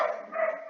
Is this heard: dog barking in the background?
yes